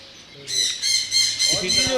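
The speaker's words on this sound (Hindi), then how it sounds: "बड़ी खूबसूरत सी कत्थे से कलर की चिड़ियाँ, ये कौन सी है?" Caged pet birds at a bird dealer's shop squawk in loud, harsh, repeated bursts close by, with a lower chattering call joining near the end.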